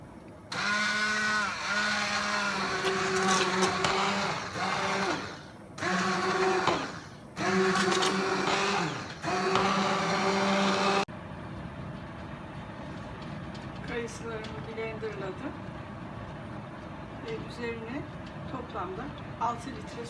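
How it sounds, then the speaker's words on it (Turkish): A kitchen blender purees juicy cooked apricots for jam in three loud, close bursts of whirring with short pauses between them, then shuts off, leaving quieter kitchen clatter and someone speaking. "blenderlayacağım. Pürüzsüz bir hale gelene kadar."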